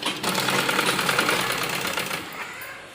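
A sewing machine stitching a curved seam on a child's umbrella frock gives a loud, close, continuous fast rattle. It runs for about two seconds, then slows and fades away, with no talking.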